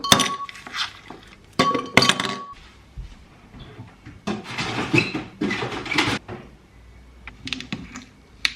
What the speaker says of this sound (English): I need a drink in a glass with a straw with ice.